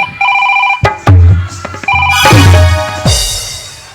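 A mobile phone ringtone rings in short repeated electronic bursts at a Chhattisgarhi folk comedy stage show, interrupted by loud thumps and crowd or music noise, with the ringing pattern returning near and clear.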